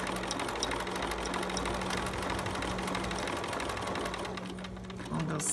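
Sewing machine zigzag-stitching over the edge of Velcro on a small preemie shirt, a steady whirring hum running throughout, close and even, briefly changing near the end as stitching slows.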